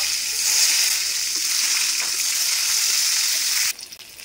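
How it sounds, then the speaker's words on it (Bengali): Eggplant pieces frying in hot oil, a steady bright sizzle close by that holds evenly and then drops away abruptly near the end. "একইভাবে এই বেগুনগুলো ভেজে নেব।"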